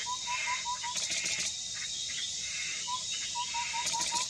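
A fluffy-backed tit babbler calls against a loud, dense, hissing forest background, giving a short series of clear, evenly spaced whistled notes, then a pause, then another run, somewhat distant.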